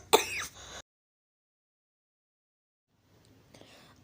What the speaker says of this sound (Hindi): आप प्लीज़ यहाँ पे मेरी खांसी इग्नोर कीजिएगा